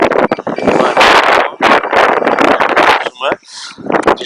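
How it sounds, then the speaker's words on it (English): Strong wind buffets the microphone outdoors on a very windy day during metal detecting, a loud continuous roar with gusts that dip and surge. "Out on a very windy day with Michael Rain over there,"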